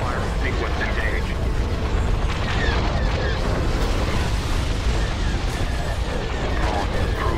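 Starship weapons firing in a Star Wars space battle game: a continuous dense barrage of blasts and explosions, loud and unbroken throughout, with voices speaking over the din.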